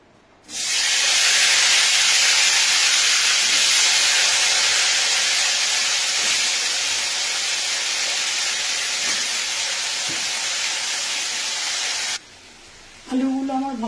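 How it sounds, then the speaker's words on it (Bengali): Diced potatoes hit hot oil in a wok with panch phoron, giving a loud, steady frying hiss for about twelve seconds that cuts off abruptly near the end. "এবার ওর মধ্যে ডুমো ডুমো করে কেটে রাখা আলুগুলো দিয়ে"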